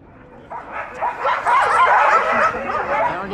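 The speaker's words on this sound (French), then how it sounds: "Alors les chiens." Several dogs yip, bark and whimper in an excited, overlapping chorus, loud and close, with a few short gaps between bursts.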